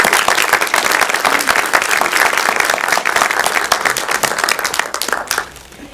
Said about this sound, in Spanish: yo creo que te mereces un aplauso de lo que has hecho tú aquí.